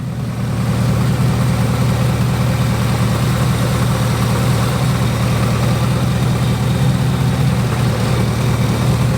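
A Chevrolet Trailblazer SS engine idles steadily and loud, a constant low rumble with even vibration throughout and no other sounds.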